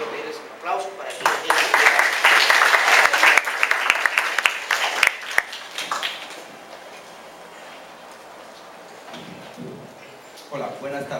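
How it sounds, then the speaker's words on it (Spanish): An audience at a university lecture event breaks into applause for a speaker. The clapping swells quickly, holds for a few seconds, then thins out into scattered claps and room noise, with a voice resuming near the end. "quiero pedirles un aplauso"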